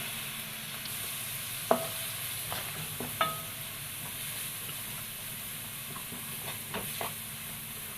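Grated carrot frying in hot ghee in a kadai gives a steady soft sizzle and hiss, broken by a few sharp stirring clicks and scrapes, close by with no talking.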